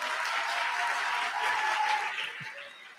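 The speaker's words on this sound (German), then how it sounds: "ja bitte mal Applaus für Herrn Professor Buro" Audience applause at a German anniversary celebration, welcoming a visiting professor, a dense even patter of many hands at moderate distance, sustained and then easing off slightly near the close.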